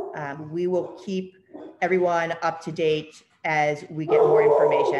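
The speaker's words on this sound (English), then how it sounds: "and I apologize, that's my dog" A pet dog barks and yips at home, its sounds mixed under continuous talk from a person speaking close to the microphone.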